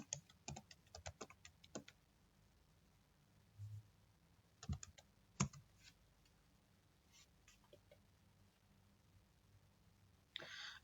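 Password being typed on a computer keyboard, a quiet run of separate key clicks in short bursts with pauses, a few harder strokes near the middle, in a still room with no talk.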